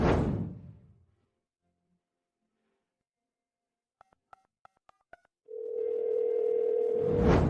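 A steady telephone dial tone rises after a short burst of keypad beeps as a phone call is placed, loud and close, following a few seconds of near silence.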